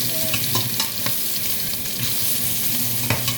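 Fish frying for crispy sinigang, a steady close sizzle of hot oil with intermittent stirring clinks and scrapes, no voices over it.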